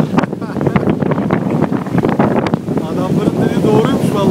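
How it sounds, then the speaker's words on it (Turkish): Strong storm wind buffets the microphone on a boat out on Lake Neusiedl, a loud continuous roar with gusts, while people talk over it. "Harbi storm çıktı."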